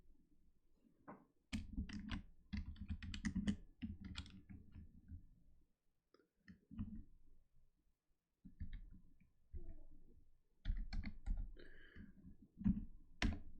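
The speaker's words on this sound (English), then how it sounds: "And sorry about the typing." Quiet bursts of computer keyboard typing, soft clicky keystrokes in irregular runs with short pauses between them, close but low in level.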